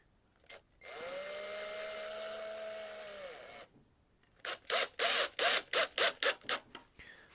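A power drill drives screws into pallet wood for a wooden Christmas tree, with a steady motor whine for a few seconds, then a burst of rapid ratcheting clutch clicks as a screw seats.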